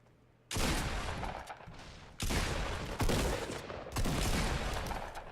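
Fortnite shotgun fire: four loud, close blasts at roughly one-second intervals, each followed by a sustained noisy rumble that fills the gaps, with no talk.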